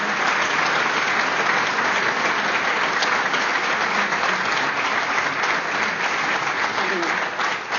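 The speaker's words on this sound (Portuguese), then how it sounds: "Uma salva de palmas." Sustained applause from an audience at a sports club anniversary event: dense, even clapping from a sizable crowd with faint voices underneath, easing slightly at the end.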